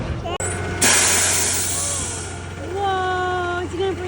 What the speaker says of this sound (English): Is it trash truck?